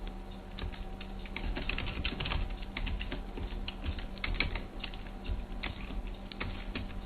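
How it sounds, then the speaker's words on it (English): Steady typing on a computer keyboard, close and fairly loud, with a continuous stream of key clicks in an uneven rhythm and no talking. "So if you just bear with me by typing it all in."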